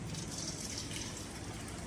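Hot water at about 50 degrees Celsius is poured into a bowl of clams, giving a soft, steady, quiet pour that lasts the whole moment without any talk.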